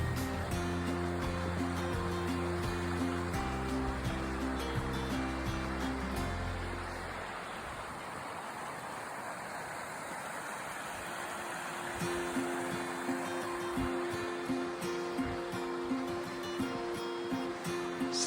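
Seneca Creek in West Virginia rushing past during an April snowstorm, a broad steady wash of flowing water, close and loud, overlaid with shifting wind or handling rumble at the start.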